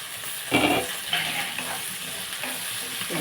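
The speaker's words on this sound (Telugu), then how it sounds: "కలుపుకుని ఒక ఐదు నిమిషాలు ఉల్లిపాయ బాగా మగ్గిన దాకా పెట్టుకుందాం" Onions frying in a pan for pumpkin curry, with a steady broadband sizzle and a few brief stirring scrapes, close and moderately loud with no talk.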